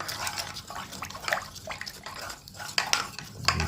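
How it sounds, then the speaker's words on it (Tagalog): A spoon stirring food in a cooking pot during a riverside cooking session after catching a large snakehead fish, with repeated scraping and clinking strokes and some liquid sloshing, moderately close and without talk. "kaya haluin lang natin"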